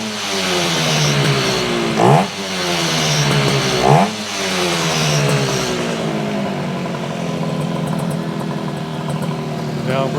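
A 1968 Yamaha YAS1C 125 twin motorcycle engine running loud and close, idling unevenly with a misfire and blipped up in two short revs.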